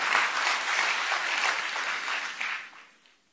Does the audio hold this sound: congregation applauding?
yes